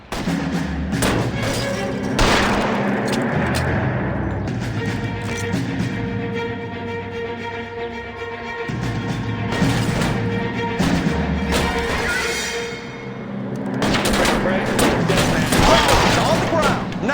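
Gunfire in the video game L.A. Noire, a dense run of shots and bursts in the middle of a shootout, loud and close, with shouting voices and a music score underneath.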